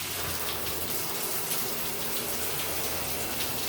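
Water gushes hard from a shower head after the pull-up diverter on the tub spout is raised, a steady, loud, broadband rushing spray that fills the whole moment with no talk.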